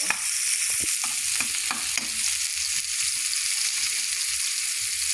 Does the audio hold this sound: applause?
no